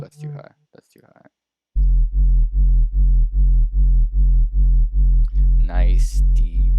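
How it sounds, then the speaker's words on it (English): Deep, dirty sub bass synth note pulsing in a fast, even rhythm of loud throbbing hits after a brief stretch of speech, with a rising filtered sweep layered in near the end. "Nice, deep, dirty sub."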